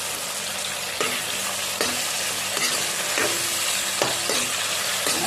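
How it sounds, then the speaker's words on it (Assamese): Tomatoes with spices, ginger, garlic and onion fry in a pan with a steady loud sizzle, punctuated by about five sharp scraping stirs at regular intervals, close with no talking. "এতিয়া মই অলপ দেৰি বিলাহীখিনি ভাজি থাকিম"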